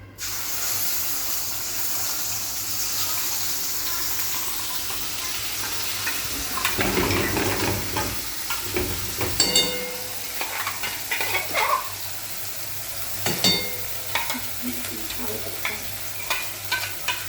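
A paste of onion, tomato, green chili, garlic and dried coconut drops into hot oil for a crab curry, giving a soft hiss that swells into a loud spluttering sizzle, followed by stirring scrapes and sharp pops, with no talking.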